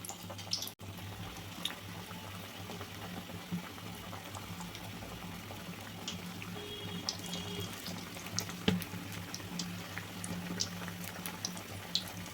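Onion vada batter fries in hot oil with a faint, continuous bubbling sizzle, scattered with soft pops and crackles throughout.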